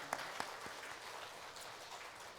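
Church congregation applauding during a Sunday worship service, a soft, steady patter of many hands heard from a distance with a couple of sharper claps at the start.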